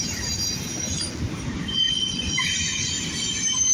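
A Union Pacific double-stack freight train rolls past close by, its wheels squealing shrill and steady over a continuous rumble of rail noise.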